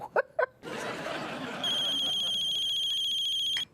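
After brief voices and laughter, an electronic telephone ring trills continuously for about two seconds, loud and close, then cuts off.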